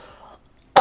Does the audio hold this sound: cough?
yes